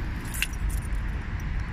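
Car keys jangle in one brief metallic rattle early on, faint over a steady low rumble inside a 2015 car.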